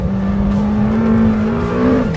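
A Lamborghini Temerario V8 revving hard toward 10,000 rpm, a loud, close, rising mechanical wail with a steady climbing pitch through the short burst.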